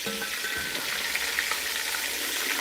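Catfish pieces fry in a hot pan with a continuous bright sizzle and crackle, steady and close throughout, with faint spatula scrapes and no voices.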